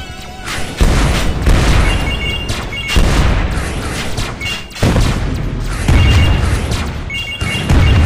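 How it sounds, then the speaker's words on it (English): Repeated heavy electric missile blasts from the arcade shooter Win Wing boom one after another at close range. Sharp crashing impacts keep returning over a dense, steady roar. "Electric missile."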